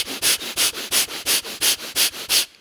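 Rapid rhythmic breathing during a Kundalini breathing exercise with arms raised, about twelve sharp, even nasal breaths in quick succession, loud and close, with no talking.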